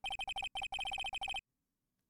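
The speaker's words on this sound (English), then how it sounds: "It's the Steel Samurai theme song, isn't it? That popular TV show for kids?" A phone ringtone plays the Steel Samurai theme song from the Phoenix Wright: Ace Attorney video game, a bright, loud electronic melody of rapid repeated notes that stops abruptly, followed by near silence.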